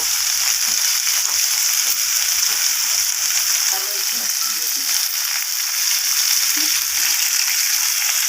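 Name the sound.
frying and stirring potato, pumpkin and red amaranth stems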